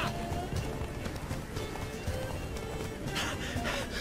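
Horse hooves gallop steadily in The Witcher 3, a continuous fast clatter under game ambience and background music with occasional voices, loud and close throughout.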